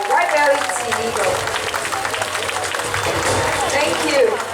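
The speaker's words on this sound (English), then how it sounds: "Let's give a round of applause, everyone, our white-bellied sea eagle." An audience at an outdoor bird-of-prey show claps for a white-bellied sea eagle, a steady, fairly loud wash of applause lasting the whole stretch, with a voice and faint tonal calls threaded through it.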